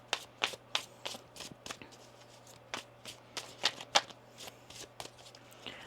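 Tarot cards being shuffled by hand close up, a series of quick crisp riffling and slapping bursts in an irregular rhythm against a quiet background with a faint low hum.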